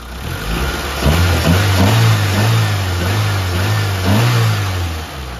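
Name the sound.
car engine revving after rebuild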